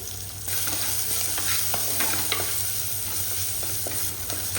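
Onions with fenugreek seeds, dried red chillies, curry leaves and asafoetida fry in a pan, giving a dense, continuous sizzle with a spoon scraping and stirring through it, close and fairly loud, no voices.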